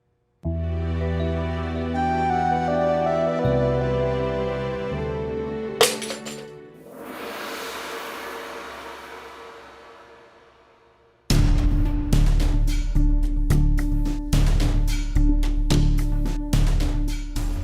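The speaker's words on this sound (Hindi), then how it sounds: "वो कांच का टूटना शुभ होता है ना, इसलिए तोड़ दिया।" Glass smashes in a sudden crash with a scattering tail of shards, set between loud dramatic music cues in a Hindi TV drama household scene.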